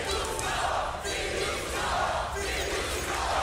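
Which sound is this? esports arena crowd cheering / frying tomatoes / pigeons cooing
esports arena crowd cheering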